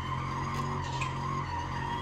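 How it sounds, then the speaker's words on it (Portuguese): Tires skid and squeal steadily after the handbrake is pulled on a Jeep or pickup in the BeamNG.drive video game, over a low engine drone, with no talking. "É, vou até botar o freio de mão."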